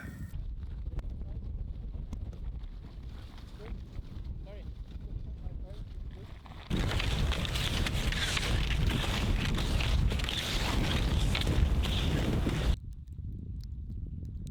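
Strong mountain wind in Sarek buffets the microphone, gusting steadily before a much louder, rougher blast takes over midway and then cuts back to a lighter roar.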